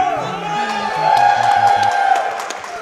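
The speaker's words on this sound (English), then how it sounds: "Let's hear you scream." An audience at the SGDQ 2017 speedrun event screams and cheers loudly in a sustained roar, swelling midway, with a voice talking over the crowd.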